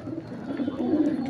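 Fighter pigeons on a rooftop give a brief, soft, low cooing close by, lasting just over a second with no talking.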